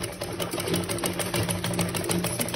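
A sewing machine stitches fabric for a scrunchie headband, its needle chattering in a fast continuous rattle, close and steady for a couple of seconds.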